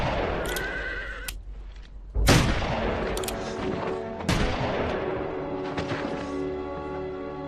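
Gunshots in a film scene of a town execution: two or three sharp, loud shots with ringing decay over a rumbling, music-like background, with no talking.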